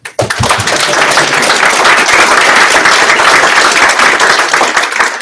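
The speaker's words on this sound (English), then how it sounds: "I think you all deserve to give yourself a big round of applause" A hackathon crowd at final presentations breaks into loud, dense applause that starts abruptly and continues evenly for around five seconds.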